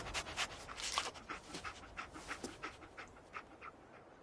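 Dog panting in the video game Fallout 4, with rapid, rhythmic breathy pants that are close but fairly soft and continue steadily throughout.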